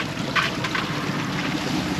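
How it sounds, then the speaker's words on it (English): Wind rushing over a sailboat under way near a reef, steady buffeting noise with water wash beneath, continuous and fairly loud throughout. "the wind's getting really fluky now, irritatingly"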